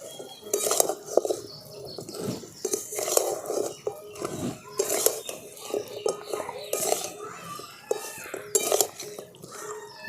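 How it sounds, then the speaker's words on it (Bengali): Sweets are stirred into a pan of sugar syrup in a village-style Bengali kitchen, making repeated clinks and scrapes of a spoon against metal that come in a steady rhythm. A voice talks throughout over the stirring. "এই মিষ্টির যে চিনি শিরাটা তৈরি করেছি তার মধ্যে দিয়ে দেবো, দিয়ে আর খুব ভালো করে মিশিয়ে নেব"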